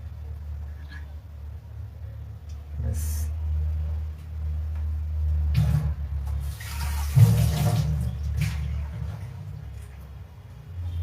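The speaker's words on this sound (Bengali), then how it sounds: "এবার এই ডাল ভেজানো জলটা কিন্তু আমি ফেলে দেবো" Soaking water is poured off lentils in a home kitchen, a steady running splash lasting several seconds with a few louder gushes over a constant low background hum.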